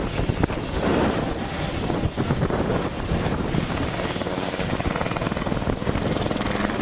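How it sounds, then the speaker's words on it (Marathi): An HAL Tejas fighter jet idles on the ground at an air show before takeoff, a loud steady engine roar with a sustained high whine throughout and no talking. "त्याच्यानंतर आता उड्डाणासाठी तेजस विमान सज्ज झालेलं आपल्याला समोर दिसतंय"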